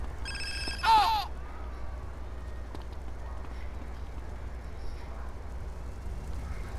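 Phone ringing in the video game GTA San Andreas, a short, bright electronic ring burst near the start, then low background hum of the game for the rest.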